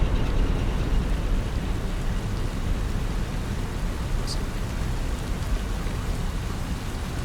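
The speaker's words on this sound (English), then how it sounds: "It's like raining here." Steady rain in the game Satisfactory, a dense continuous hiss of drops pattering on surfaces in a desert area, even and fairly loud throughout with no voices.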